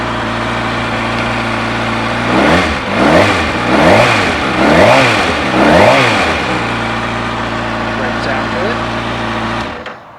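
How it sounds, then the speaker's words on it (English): A 2013 Kawasaki ZX6R 636 Ninja supersport motorcycle engine revved with no load: steady idle, then four quick climbing throttle blips, then back to idle before it cuts off. Loud and close. "Give these a lot of gas with no load on the motor."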